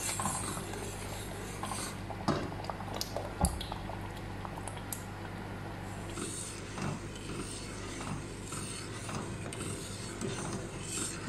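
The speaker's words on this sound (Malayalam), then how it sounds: "ഇത് നന്നായി കുറുകി വരുന്ന വരെ നമ്മളിതുപോലെ ഇളക്കി കൊടുത്തുകൊണ്ടേ ഇരിക്കണം." A thick shallot and jaggery mixture stirred in a pan as it reduces, with a steady bubbling, squelching texture and occasional scraping clicks from the spoon. No one speaks.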